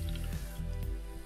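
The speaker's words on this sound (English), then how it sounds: "Cleaning out some of the water from my airbrush real quick" Water is being cleared from an airbrush with faint, wet squishing and spritzing sounds that sit low beneath a steady electrical hum.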